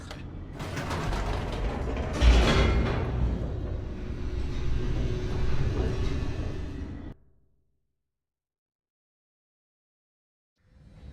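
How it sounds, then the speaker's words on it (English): A descending elevator in the video game The Stanley Parable gives off a steady mechanical rumble with creaking, grinding and ratcheting gear noises for about seven seconds, then cuts out abruptly to near silence. "The elevator raced downward, plummeting towards an unknown fate."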